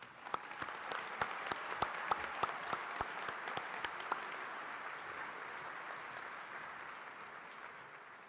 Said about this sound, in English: Let's all give a round of applause to our graduates.